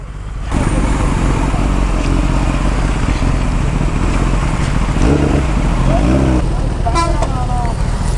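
A Kawasaki ZX10R sportbike ridden through traffic with its quick shifter, its engine and wind roar steady and loud for the whole stretch, with riders talking over it.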